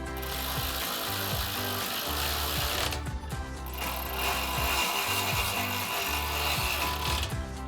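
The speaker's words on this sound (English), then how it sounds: "Then take a 13mm socket, tighten these down once you have your bolts in all 3 brackets." Socket ratchet clicking in quick rhythmic strokes while tightening running board bracket bolts on a Ford F-150, with a short pause between two bursts and no talk.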